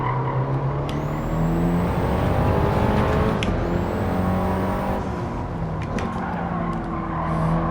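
A race car in the video game Gran Turismo 7 brakes hard, its loud, close engine roaring and dropping in pitch while tires squeal and skid in short bursts, with no voices.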